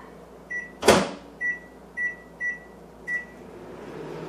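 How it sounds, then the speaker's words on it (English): A microwave is set to melt butter: the door thuds shut, a string of evenly spaced keypad beeps follows, and a low running hum starts up and builds at the end. "I'm going to put 4 ounces of butter in the microwave just to melt it."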